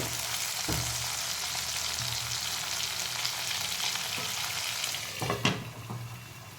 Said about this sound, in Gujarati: જીરું ચટકે એટલે આ વટાણા એડ કરી દેવાના વટાણાને થોડી વાર થવા દેવાના